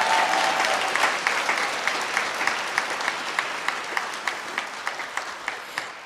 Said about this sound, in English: You know the sound of those claps?